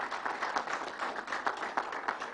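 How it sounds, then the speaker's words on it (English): Applause rises from the audience at a gubernatorial announcement at Belmont Park, steady dense clapping filling the whole moment without voices. "let's give them a round of applause"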